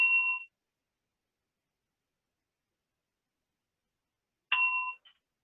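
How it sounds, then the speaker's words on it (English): A small bell rung during an improv game gives two clear dings, about four seconds apart, with silence between them and no voices. "every time they ring the bell, it's an opportunity to drive the story in a new direction"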